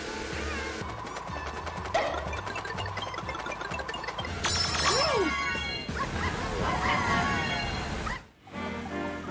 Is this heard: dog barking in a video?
yes